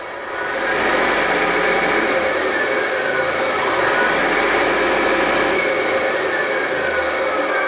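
Simulated engine sound from a Tamiya RC truck's multi-function sound unit, a steady mid-pitched diesel-like drone that swells in as the throttle opens and holds loud and continuous, with no talk.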